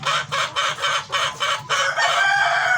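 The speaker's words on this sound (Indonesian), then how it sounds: "jadi ayamnya kokok terus" A village chicken clucks in a quick, loud, rhythmic series of about six calls, then breaks into a long drawn-out crowing cry close by.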